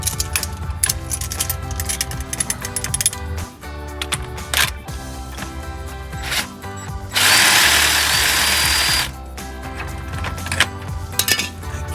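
A power tool, likely an impact wrench with a socket, whirs loudly for about two seconds while removing the axle-side bolt of a lower control arm on a Jeep Wrangler TJ, amid clinking tool noises.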